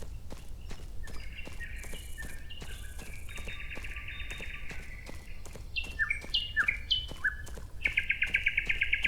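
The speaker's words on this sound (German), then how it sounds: "Pfeift die Amsel." A blackbird in a video game sings a series of varied fluting phrases over steady rhythmic footsteps, the song growing louder and brighter toward the end.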